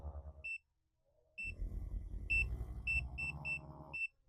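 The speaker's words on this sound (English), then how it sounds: "You can kind of hear it. There's different vibration modes." A red light therapy knee brace running its massage vibration modes gives a low buzzing hum that starts, stops and shifts in intensity, punctuated by short high electronic beeps as buttons are pressed, close by with no talk.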